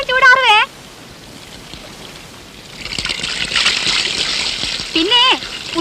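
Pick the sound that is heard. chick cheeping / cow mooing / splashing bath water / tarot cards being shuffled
splashing bath water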